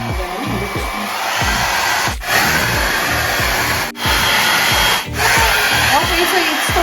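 A Feekaa anion fast-drying hair blower running on speed 2 gives a steady loud whooshing roar close by, with periodic brief dips and rustling handling noise as it moves.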